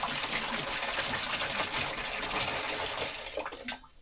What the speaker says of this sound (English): We've got some nice hot water here.